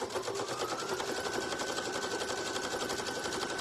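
Sewing machine running very fast along straight seams of a patriotic rag table runner, a close, steady high-speed whirring with a rapid needle chatter and no pauses or voices.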